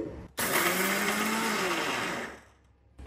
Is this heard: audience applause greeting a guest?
no